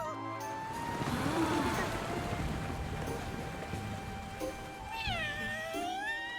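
A cat in the video game Dragon Quest Treasures lets out drawn-out, wavering meows and caterwauls amid game music and ambient noise, one cry rising sharply near the end.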